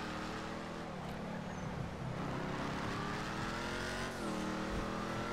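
A car in GTA V heading into the city, its engine humming steadily with rising and falling revs, fairly quiet and continuous, with no voices over it.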